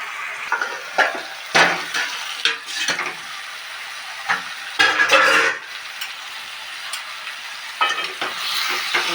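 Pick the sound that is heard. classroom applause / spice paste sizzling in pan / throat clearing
spice paste sizzling in pan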